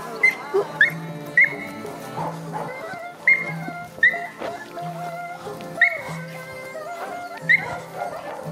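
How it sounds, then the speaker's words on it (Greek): Several hunting dogs bark repeatedly during a Greek field competition, sharp high yelps coming in irregular bursts, some near and some farther off, over a low steady background. "Βλέπω τη διάρκεια στο γάβγι"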